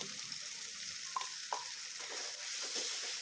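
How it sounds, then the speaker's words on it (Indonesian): A ground spice paste of garlic, candlenut and shallots sizzles and fries with fried shallots in oil, a steady moderate crackle with a few soft stirring knocks, with no talking over it. "Kita tumis bumbunya sampai wangi ya, sampai airnya asat dan berminyak."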